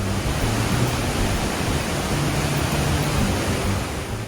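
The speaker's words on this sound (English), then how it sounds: "This waterfall is in the center of Watertown." Black River waterfall in the center of Watertown roars steadily, a dense, unbroken broadband rush of falling water with no pauses, loud and close throughout.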